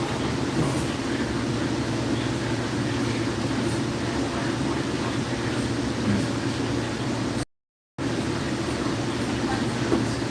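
Hudson-Bergen Light Rail train riding along its track, heard from on board as a steady low rumble and hum with faint rattles, continuous apart from a short silent gap.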